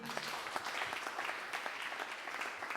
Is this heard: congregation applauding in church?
yes